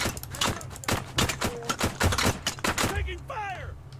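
ARMA 3 gunfire rings out in rapid, sharp shots and short bursts, loud and close, with a brief voice heard near the end.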